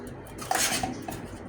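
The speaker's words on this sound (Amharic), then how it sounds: "ከዛ ያዘጋጀሁት ብረት ድስት አለኝ።" An iron pot clanks and scrapes as it is handled during cooking in a kitchen: a few close metallic knocks and rattles, with one louder clatter near the middle.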